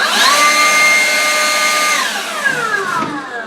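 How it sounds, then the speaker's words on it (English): A DeWalt cordless battery-powered leaf blower whirs steadily at close range, its motor whine holding high and even, then winding down toward the end with a dropping pitch. "This is how loud the machine will sound."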